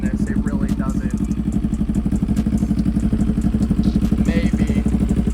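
A CFMoto 700CL-X Sport with an inline-two engine running close by, a steady throbbing idle with a rapid even pulse and some mechanical clatter.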